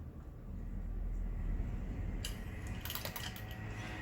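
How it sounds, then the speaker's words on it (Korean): A hand-cranked sewing machine stitches with upper and lower thread, giving a quick run of faint, light ticking clatter against a low background hum. "차차차차 통탁한 소리가 나면서 박음질이 아래실 위실 깔끔하게 돼서 나오죠"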